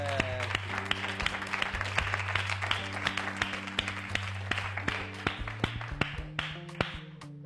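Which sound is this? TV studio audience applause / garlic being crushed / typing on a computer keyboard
TV studio audience applause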